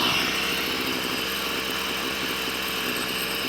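A petrol string trimmer (strimmer) runs at a steady idle during carburetor tuning, its line head spinning, a continuous buzzing engine drone with no pauses, close and even in loudness throughout.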